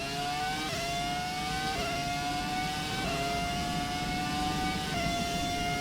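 Ferrari F2004-style Formula One V10 engine in the F1 2017 video game, screaming at high revs with repeated sharp upshifts that briefly drop the pitch before it climbs again, loud and steady throughout with no talk.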